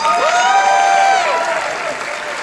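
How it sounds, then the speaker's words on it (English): Crowd applause after a screening of the film Nonnas, broad and continuous, with a loud cheer or whoop ringing over the clapping before it fades slightly. "Let's give it a huge round of applause."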